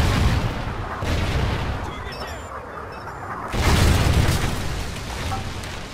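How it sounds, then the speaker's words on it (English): Trinity rocket strikes land during Call of Duty Ghosts multiplayer: two heavy, close explosions about three and a half seconds apart, each trailing into a long roaring rumble, with a voice faintly audible underneath. "Friendly Trinity rocket inbound."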